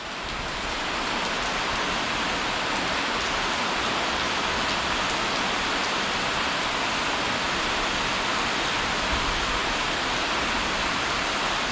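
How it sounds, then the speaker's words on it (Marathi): Heavy rain pouring down in a dense, constant roar, loud and steady from start to finish with no voices. "जरा जास्त धुवाधार आला एकदम आता पाऊस नव्हता आणि आता अचानक आला"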